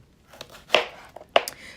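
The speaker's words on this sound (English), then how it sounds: "Here I have my tomatillos that I'm gonna cut in 4 pieces." A knife cuts tomatillos into quarters on a board, with a few distinct crisp chops and moist squishes spaced apart, close and fairly quiet.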